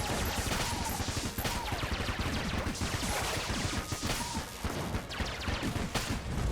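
Rapid, continuous gunfire from the Void Marshal gun in Enter the Gungeon, a dense stream of shots with crashing impacts that runs steadily through the whole stretch with no let-up, loud and close.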